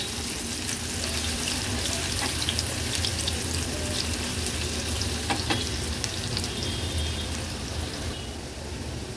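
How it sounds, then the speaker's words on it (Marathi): Finely chopped onion cooks in a pan over a low gas flame, giving a continuous close sizzle and frying crackle with occasional stirring scrapes, with no talking. "गॅसची फ्लेम लो करते आणि कांदा पण शिजवून घेते।"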